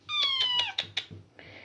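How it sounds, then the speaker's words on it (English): A cat in a bath lets out one drawn-out, close meow that falls in pitch, followed by a few quieter splashes. "You're just meowing at me."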